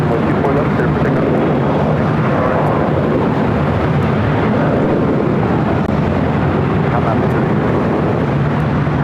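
A heavy airliner takes off at LAX with a loud, steady roar of jet engines throughout, broad and rumbling, while a voice talks over it.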